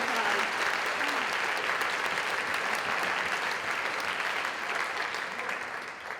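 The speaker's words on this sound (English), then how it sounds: "It's a round of applause." A large audience claps steadily at an arts festival performance in Reading, with dense sustained applause that holds strong throughout and begins to taper slightly near the end.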